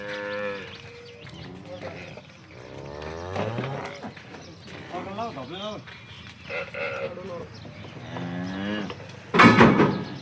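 Buffaloes moo repeatedly in long, drawn-out calls, loud and close, with people talking in between.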